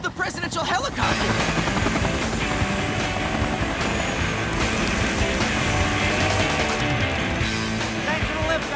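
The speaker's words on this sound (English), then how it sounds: "Look! It's the presidential helicopter!" A presidential helicopter in a video game cutscene roars loudly and continuously, its rotor beating steadily throughout with a brief onset before the full sound sets in.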